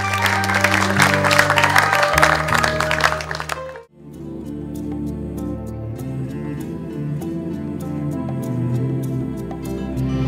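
Crowd applause at a live concert rises over sustained stage music, then cuts off abruptly as a soft instrumental passage begins, leaving scattered faint claps and tones.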